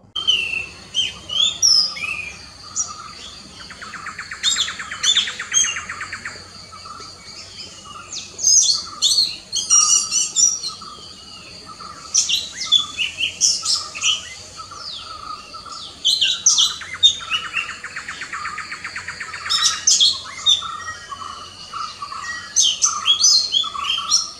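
An orange-headed thrush sings long, varied phrases with whistles and trills, repeating in bursts with short pauses between, clear and fairly close over quiet surroundings.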